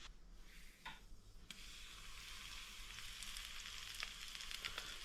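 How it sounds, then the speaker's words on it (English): Floured pieces of wild foraged octopus crisping in a pan, a steady broadband sizzle throughout with a few brief scrapes or clinks near the start, close and fairly quiet, no voices. "we're just cooking this just till the flour's crispy"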